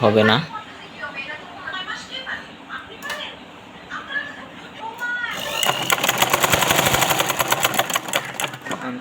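A sewing machine motor, fitted with a paper insert to slow it down, starts up partway through. It runs steadily with a rapid rhythmic needle clatter after a stretch of quieter handling noises and some voices.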